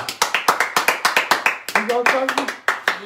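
A small group claps in steady, rapid applause at a casual indoor evening gathering, the sharp hand claps close and lively, with voices talking over part of it.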